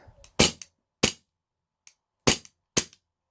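A blowback 1911 CO2 air pistol fired outdoors at a can, with five sharp close cracks at uneven intervals, some followed by a quick mechanical clack of the slide, and silence between shots.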